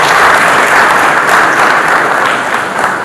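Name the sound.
audience applause at a meeting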